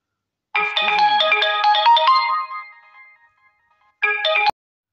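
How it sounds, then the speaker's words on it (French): A phone's melodic ringtone sounds for an incoming call, loud and close, playing a rapid tune that fades briefly before a short second burst cuts off abruptly. "excusez-moi, c'était un coup de téléphone important"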